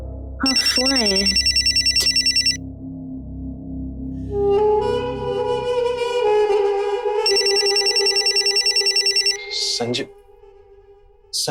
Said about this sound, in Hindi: फोन आया। हाँ, फोन आया है।